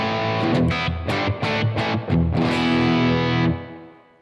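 Distorted electric guitar through a Blackstar AMPED 1 power pedal with plate reverb set to a dark tone, a run of sharp strummed chords ending in a long sustained chord that rings out into a fading reverb tail, loud and alone.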